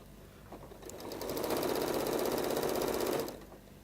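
A sewing machine stitches straight through quilt binding at a mitred join, one steady rapid run of about two seconds, ramping up and stopping, close and fairly quiet with no talk.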